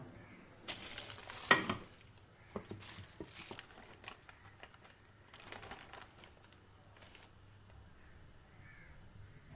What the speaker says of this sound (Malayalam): ഈ പ്രസ് ചെയ്തെടുത്തിരിക്കുന്ന മാവ് നമ്മൾ ചൂടായ പാനിലേക്ക് ഇട്ടിട്ട് തിരിച്ചും മറിച്ചും വെച്ച് ഇത് റെഡിയാക്കി എടുക്കുകയാണ് ചെയ്യുന്നത്